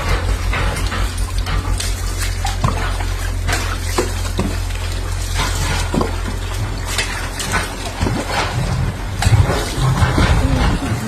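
Water splashing and pouring during bathing while wearing a sari, a steady wet rushing with irregular splashes and clatters, fairly loud and close throughout.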